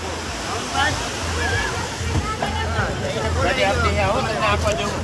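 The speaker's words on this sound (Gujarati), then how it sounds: "આ છે દરિયો" Steady rushing wash of sea water at the coast, broad and continuous, with people talking over it throughout.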